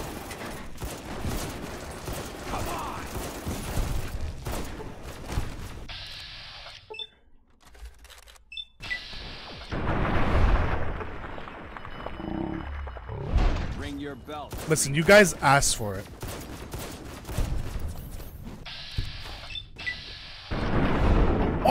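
Gunfire in Fallout New Vegas with a randomizer mod, several sharp shots and bursts spread through the stretch amid game effects, with someone talking over much of it.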